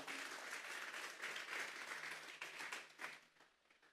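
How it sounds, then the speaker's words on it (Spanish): A church congregation applauds together during a Sunday afternoon service: dense, steady clapping that holds for several seconds, then thins and fades toward the end. "Vamos a darle una ofrenda de palmas a Dios en esta tarde."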